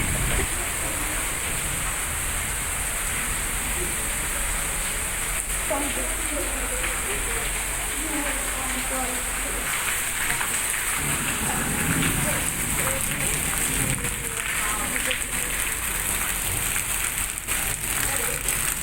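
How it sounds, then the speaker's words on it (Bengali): Steady rain falls continuously as a broad, even hiss, with a voice talking faintly underneath. "তাই এখন আপাতত বৃষ্টি একটু কমেছে, নাহলে অনেকটাই জোরে বৃষ্টি হচ্ছিল একটু আগে।"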